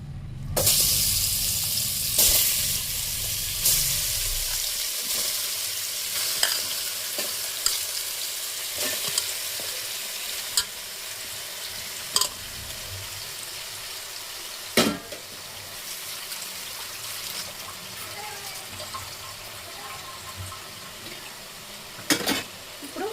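Food sizzles and fries steadily in a pan, louder at first then settling, with occasional sharp clinks of a utensil stirring.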